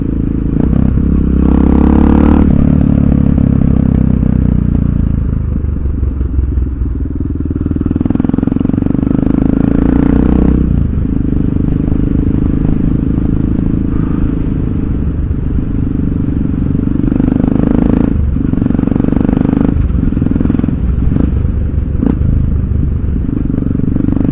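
A loud motorcycle engine drones continuously nearby while riding and shifting gears without the clutch, with its pitch and load changing at several shift points.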